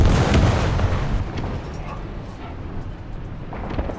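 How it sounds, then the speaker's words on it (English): A tank cannon in the War Thunder game fires with one loud, heavy boom that opens the moment, followed by a rumbling decay and low battlefield noise. "that shot should have gone straight through my gun mantler"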